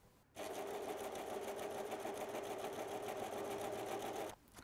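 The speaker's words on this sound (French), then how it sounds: "je vais aller faire sur le cercle extérieur et sur les côtés un petit rouloté, soit à la surjeteuse, soit à la machine à coudre à l'aide du point zigzag" A sewing machine runs a steady zigzag stitch to make a rolled edge on organza, a continuous fast mechanical whirr lasting about four seconds, close and even, starting and stopping abruptly, with no voice.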